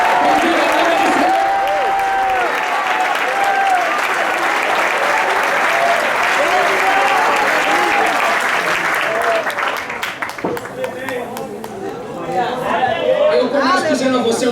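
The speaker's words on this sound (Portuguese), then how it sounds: "Vamos render um aplauso." A church congregation applauds together, a loud dense clapping that runs steadily, thins briefly near the end and then swells again, with shouting voices mixed in.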